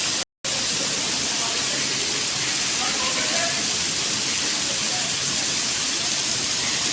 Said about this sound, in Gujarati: આજનો વરસાદ ચાલુ થયો છે